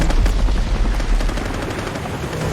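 Rapid machine-gun fire from a helicopter attacking a giant shark in a film scene, a loud, dense burst of rattling shots over a rumbling low boom that eases slightly toward the end.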